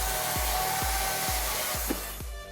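Firewood being cut with a steady back-and-forth sawing rhythm, about five repeated strokes under a constant loud motor-like drone, close by with no speech.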